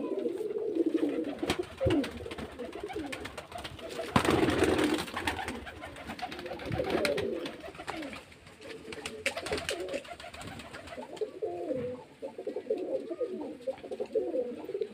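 Pigeons kept for sale at a home loft in Beldanga cooing steadily, overlapping coos near and loud with bursts of wing flapping and shuffling, no speech heard.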